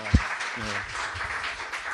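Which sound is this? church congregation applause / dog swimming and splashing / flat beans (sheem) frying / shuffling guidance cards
church congregation applause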